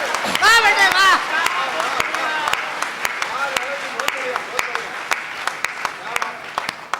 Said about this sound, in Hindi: बाबूजी आपने खड़े होके ताली बजाई